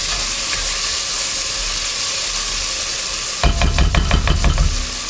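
Crushed pistachios and finely chopped almonds fry in a green masala, sizzling and hissing steadily in the pan, then turning to louder rhythmic scraping and crackling as they are stirred.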